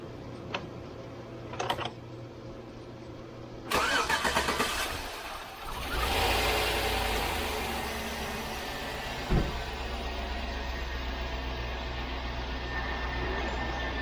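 A 2005 Chevy Suburban with a newly fitted fuel pump cranks briefly and fires up, then settles into a steady idle, preceded by a few faint clicks as the key is bumped.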